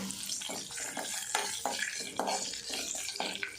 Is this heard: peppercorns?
yes